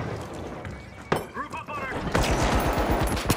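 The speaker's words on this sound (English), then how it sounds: "Why are you shooting me?" Gunfire in the shooter game The Finals during a tournament-mode match, a burst of close shots followed by rapid repeated firing that rattles on steadily to the end.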